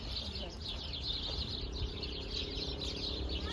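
Hidden birds chirp in a laurel tree, with a dense, continuous twittering chorus outdoors at moderate distance over a steady background hum, and no speech over it.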